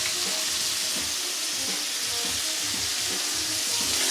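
Shrimp sizzle and fry steadily in a hot pan, a dense continuous crackle with soft irregular pops and light stirring movements, close and unbroken, with no talking.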